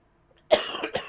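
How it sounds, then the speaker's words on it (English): A single close cough from someone with a lingering cold bursts out after a moment of silence, a harsh double hack with a short second spasm trailing the first. "Sorry I keep coughing in y'all's ears."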